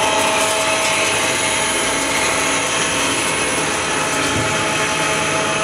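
Material dropping into the feed hopper of a reactor chamber, heard as a steady loud mechanical drone with ratcheting and grinding texture that runs unbroken throughout, no voices.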